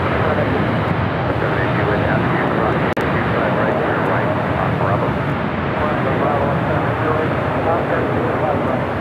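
Airplane at LAX airport, a loud steady engine roar that holds for the whole stretch, broad and continuous as the aircraft passes nearby, with faint voices underneath.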